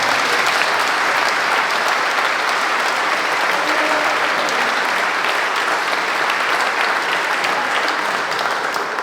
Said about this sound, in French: Donc on va les applaudir très fort.